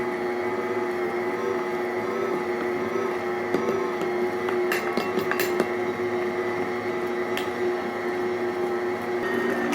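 A large-capacity stand mixer churns a big batch of sausage ball dough made with self-rising flour, giving a steady, loud mechanical whir and hum throughout with faint clicks and knocks near the end.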